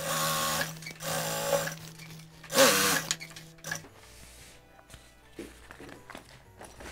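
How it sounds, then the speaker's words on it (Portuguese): A sewing machine runs a safety seam through layered zipper fabric for a shoulder bag, whirring in several steady bursts with short pauses, loud and close. "Eu vou primeiro passar uma costura de segurança aqui, ó. Pra segurar essas duas camadas."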